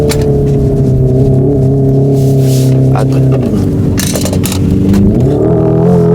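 A Hyundai Ioniq 5 N sports car pulls hard on a circuit, its drive note climbing in pitch through a couple of stepped rises with mechanical clatter, loud and close throughout.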